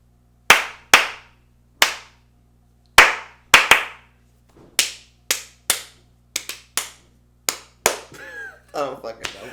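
A pair of hands clapping in a small room, about a dozen sharp, separate claps at uneven intervals, some in quick pairs, loud and close, followed by brief talking at the end.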